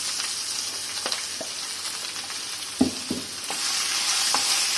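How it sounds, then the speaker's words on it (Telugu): Tempering for a cabbage chutney sizzles steadily in a hot pan, with a few brief stirring knocks and clinks over a continuous frying hiss. "ఇలా తాలింపు వేసేసుకున్నాం కదా"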